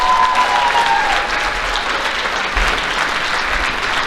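Sustained applause from a banquet audience honoring district champion girls' doubles players at a high school athletic banquet, steady and dense clapping filling the room throughout.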